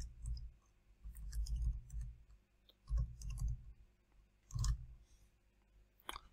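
A computer mouse clicks on a chart title while editing a pie chart in a spreadsheet, producing a few scattered, sharp clicks over a quiet low hum with no talking.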